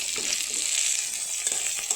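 Shrimp frying in a pan for a pumpkin curry, a steady close sizzle with bright crackling and small spits throughout, no talk over it.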